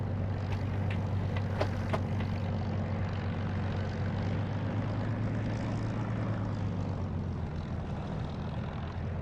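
Piston-engine drone of a Spitfire taxiing in the DCS flight simulator, a steady low propeller rumble running continuously at even loudness with a few brief clicks near the start.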